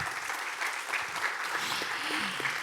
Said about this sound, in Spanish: Un fuerte aplauso para Matías, bienvenido.